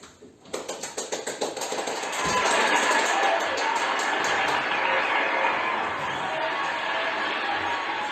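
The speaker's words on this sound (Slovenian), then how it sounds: "Pa sklenimo ročice v en simpatičen aplavz" Studio audience applause on a Slovenian TV show following a duet, starting as a few distinct claps and swelling into steady, dense clapping with crowd noise that holds loud through the end.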